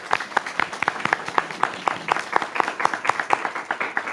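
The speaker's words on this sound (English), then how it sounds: "let's give our community heroes a round of applause." An audience in a board meeting room claps steadily to honour community heroes, a dense patter of handclaps at even loudness with no voices on top.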